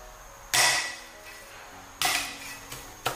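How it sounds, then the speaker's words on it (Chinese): A kitchen knife blade slaps down flat on a small piece of ginger and garlic cloves on a board, giving two sharp, close thumps with a brief lighter knock after, and no talk. "一小块生姜给它拍扁，几个蒜子也给它拍扁"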